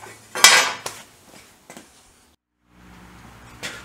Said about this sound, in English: I'm going to put the oil tank on